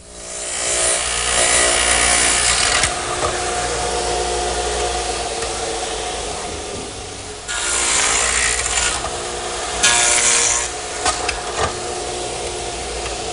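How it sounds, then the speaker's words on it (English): A radial arm saw cutting stop dadoes into wooden legs for a pot shelf: loud, harsh bursts of blade whine and cutting noise, one long pass, a pause, then shorter cuts, with quieter motor hum between, no talk. "The next thing I want to do to the legs is make a dado to receive the pot shelf."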